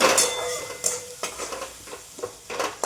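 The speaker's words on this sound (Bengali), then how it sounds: "মশলাটা একটু কষে নেব" Spice mix of cumin powder and salt being stir-fried in oil for a cauliflower roast, with a spatula scraping and stirring in a pan in several bursts over a low sizzle.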